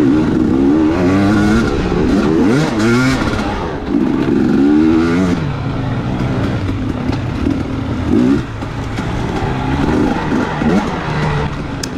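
A dirt bike engine revs hard during a motocross race at the Mag 7 Buckhorn GP, a loud, close, continuous snarl with repeated rising and falling throttle sweeps and no talk.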